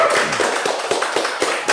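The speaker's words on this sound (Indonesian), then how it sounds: "Tepuk tangan untuk Pak Sony." A small group clapping for a guest at a local community gathering, a short run of distinct, fairly close claps at an uneven rhythm.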